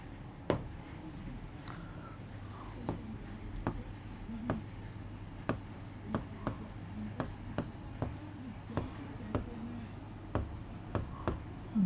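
A pen scratches on paper during an accounting lesson, a soft run of short strokes and taps spaced irregularly over twelve seconds against a quiet room hum.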